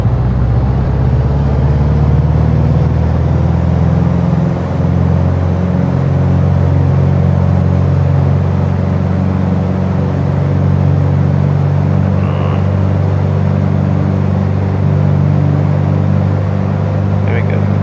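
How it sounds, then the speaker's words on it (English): Piper PA28 Arrow piston engine throttled up to 2300 RPM, a loud steady droning hum with a slowly rising tone, continuous throughout, with voices talking over it. "set the manifold pressure just enough so that we get 2300 RPM. So advance the throttle."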